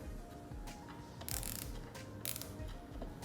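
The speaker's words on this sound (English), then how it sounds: "tighten the cable tie so that it cannot move" A cable tie is pulled tight around a decorative piece on a flower pot made from a damaged bike pump, giving close ratcheting clicks with a couple of sharper zipping bursts.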